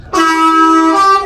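A truck's air horn blares in one loud, sustained honk, close by and lasting just over a second.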